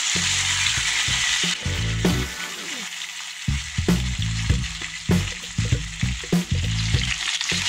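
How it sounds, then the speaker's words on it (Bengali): Pieces of pointed gourd, ridge gourd and raw banana fry in a pan with a continuous close sizzle, punctuated by repeated scraping and clattering strokes as the vegetables are stirred. "এটাকে একটু ভেজে নেব"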